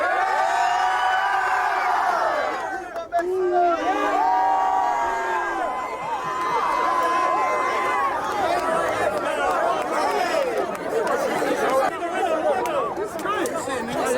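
A lively crowd at a knockout contest in Duval, Jacksonville, shouts, whoops and cheers loudly for the winner, a dense, continuous roar of overlapping voices close by.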